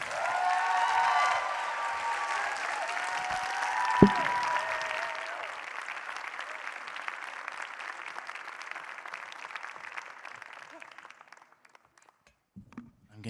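An audience at a science comedy night applauds steadily, a loud, dense burst of clapping that gradually thins and fades out over about twelve seconds.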